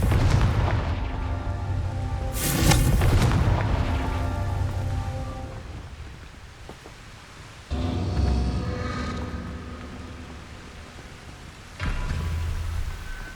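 Fire-blast spell from the video game Hogwarts Legacy bursts with a loud booming explosion that rumbles and crackles away, followed by further heavy impacts.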